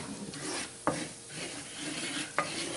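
A roux of a couple of tablespoons of oil and plain flour cooks in a pan for red chile gravy, a soft low sizzle with stirring scrapes and two sharp utensil clinks.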